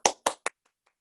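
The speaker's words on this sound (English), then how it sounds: "Let's applaud ourselves." Three short bursts of hand clapping from an audience at a dental talk, close and sharp, then quickly fading to near silence.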